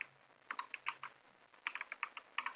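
Quick bursts of keystrokes on a computer keyboard during a fast-paced typing game, light clicking clusters with brief pauses between words, close and clear with no voices.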